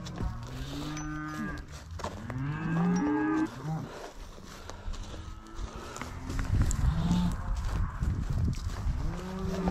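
South Poll bulls and cattle on a winter farm moo repeatedly, with several loud, drawn-out calls close by and overlapping, over background rustle and movement.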